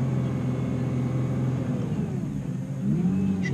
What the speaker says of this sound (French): tu peux peut-être même mettre un petit coup de gaz